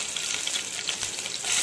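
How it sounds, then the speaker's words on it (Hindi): Mustard seeds and chopped green chilli fry in hot oil in a kadai, giving a dense, steady crackling sizzle at close range with a brief swell toward the end, alone without any voices. "अब इसमें राई डालते हैं"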